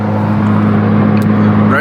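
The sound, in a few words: car passing by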